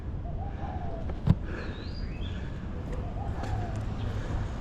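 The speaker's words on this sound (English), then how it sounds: "There's some pigeons up there." Pigeons perched up high along Calçada do Monte in Macau give faint, distant soft coos that come and go over outdoor street ambience, with a single sharp click partway through.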